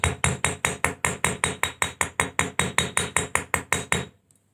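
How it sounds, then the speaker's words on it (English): A rawhide mallet strikes wire shaped into an earring, about twenty quick, even taps with a bright knocking edge, close and clear, then stopping abruptly. "I'm going to bring in my rawhide."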